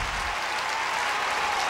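A US Open tennis crowd applauds a great point in the 2003 Dent versus Gonzalez match, with dense, steady clapping filling a large stadium for a couple of seconds.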